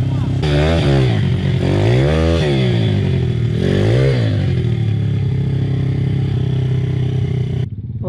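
A new Pitgang 140XD pit bike engine being broken in runs loudly throughout, its pitch rising and falling with repeated revs while voices talk over it.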